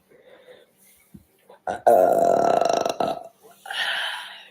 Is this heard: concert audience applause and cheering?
no